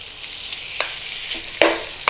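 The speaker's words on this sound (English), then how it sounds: "we want to be browning this lamb, so we don't really want to overcrowd the pan." Pieces of lamb browning in a hot pan over a flame, a steady hiss of frying with a few sharp pops and spatters, close and moderately loud.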